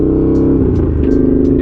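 A Honda GL650 motorcycle on knobby tires accelerating onto a road during a shakedown ride, with a loud, close engine drone that rises and falls as it revs, over steady wind rush.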